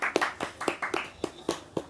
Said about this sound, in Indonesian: Tepuk tangannya dulu. Respect.